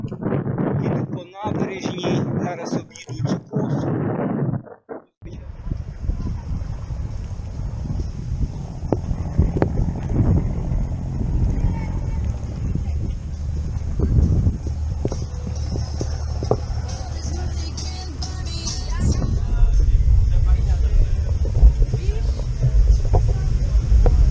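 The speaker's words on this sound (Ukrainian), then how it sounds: "Але день сьогодні вітряний, так як і вчора." Wind on a cloudy day along the Black Sea coast near Burgas and Nesebar buffets the microphone with steady low rumbling and gusting roar for most of the stretch, following a short spell of clucking fowl at the start.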